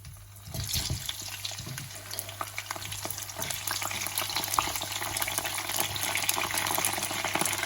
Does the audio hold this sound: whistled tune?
no